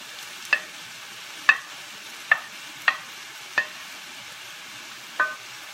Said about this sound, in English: I'm putting my vegetables back in the pan